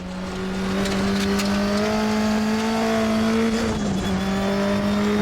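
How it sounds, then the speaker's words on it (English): Race car in the Raceroom racing game, its engine holding a loud steady drone with a thin turbo whine riding on top. The pitch dips briefly near the end, then settles again. "I love the turbo noise"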